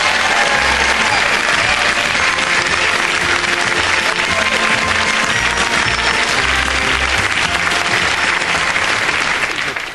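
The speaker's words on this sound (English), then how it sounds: "Give him a round of applause." Studio audience at a comedy show bursting into loud, sustained applause, a thick continuous roar of clapping with some cheering, steady for the full ten seconds before easing slightly at the end.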